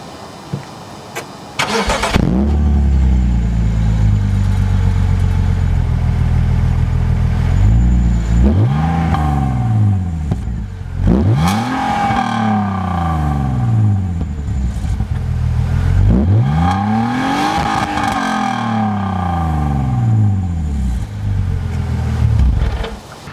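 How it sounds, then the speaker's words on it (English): Revving car exhaust, a poor-sounding setup on a newly acquired car, starts up then blips repeatedly, each loud rev rising and falling in roughly regular bursts, close and alone without talk. "As I mentioned, the exhaust doesn't sound great."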